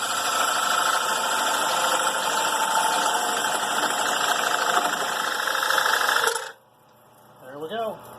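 A wood lathe spins a blue resin bowl as a turning tool cuts it loose, a steady loud whirring hum for about six seconds that stops abruptly, followed by a brief voice as things go quiet.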